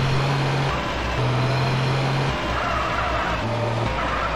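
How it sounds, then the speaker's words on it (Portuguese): A truck engine drones steadily in GTA San Andreas multiplayer with the default game sound, a low constant rumble whose pitch shifts slightly as it revs and settles. "Cadê meu caminhão? Ó, tá com o som normal do GTA"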